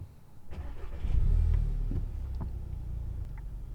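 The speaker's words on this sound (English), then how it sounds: "I'm gonna start the car right now." A Volkswagen Golf R (Mk7) engine cranks and turns over, settling into a low idle rumble nearby.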